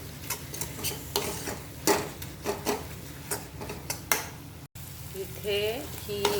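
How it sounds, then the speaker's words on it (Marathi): Green chillies in yogurt sautéing in oil in a pan, a steady sizzle with repeated scraping stir strokes and clicks of the spoon, close and fairly loud. "दही टाकल्यामुळे मिरची ही कमी तिखट लागते चांगलं तेल सुटेपर्यंत आपल्याला हे परतवून घ्यायचं आहे"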